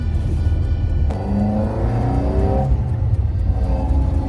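An Alfa Romeo Giulia Super drives along with a steady low engine rumble, then revs up sharply and holds a higher, rising note before settling back. No one speaks over it.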